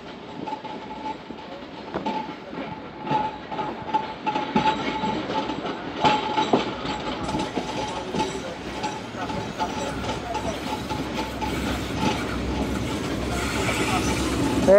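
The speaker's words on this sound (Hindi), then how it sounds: "हज़ारा एक्सप्रेस और कराची एक्सप्रेस हैदराबाद आउटसाइड मिलते हुए।" The Hazara Express and Karachi Express pass each other outside Hyderabad with a rising rumble of rolling wagons and clattering wheels that builds to a loud, close roar and ends in a brief squeal.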